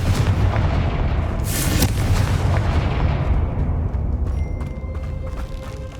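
A Confringo fire spell from the Hogwarts Legacy video game goes off as a loud, close blast followed by a long rumbling roar. The roar slowly decays over several seconds.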